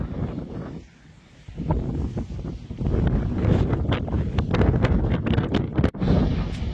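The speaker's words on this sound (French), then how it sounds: "Bah, désolé pour le vent en tout cas." Heavy wind at Tarifa, southern Spain, buffets the microphone in loud, rumbling gusts, dipping briefly then surging again, with faint outdoor background beneath.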